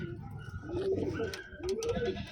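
A medium-sized blue bar pigeon coos close by, a couple of low rolling coos heard clearly over faint background noise.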